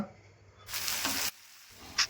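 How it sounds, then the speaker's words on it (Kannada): A short burst of loud sizzling as chopped capsicum and mint hit hot seasoning oil in a pan, then quieter frying with a faint clink. "ಇವಾಗ ಇದನ್ನು ಒಗ್ಗರಣೆಯಲ್ಲೇ ಬಾಡಿಸ್ಕೊಳ್ಳೋಣ."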